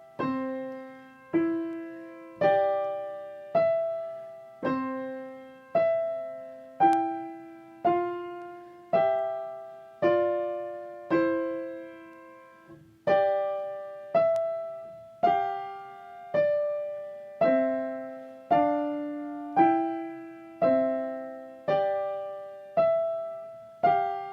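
A simple piano piece in a steady, even rhythm, single notes and small chords struck one after another and left to ring, played alone.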